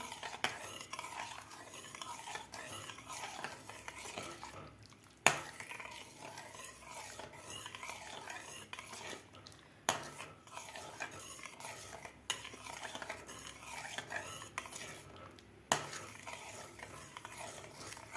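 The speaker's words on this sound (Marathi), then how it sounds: "एकसारखं आपल्याला ढवळत राहायचं आहे नाहीतर ते खाली लागतं" A spoon stirs sorghum flour batter in a pot with a steady, continuous scraping and swishing, broken by a few sharp clacks against the rim; close and moderately quiet, with no voices.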